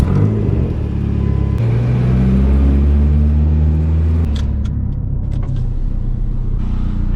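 A Dodge Neon SRT-4 with stiff, difficult shifting drives in hot weather, its engine droning loud and steady with rising tones that drop at a gear change, then a rougher rumble after the shift, heard close and without talk.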